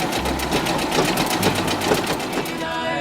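A sewing machine stitches the seam of a frontier style skirt, its needle chattering in a fast, even, close and loud rhythm before slowing at the end.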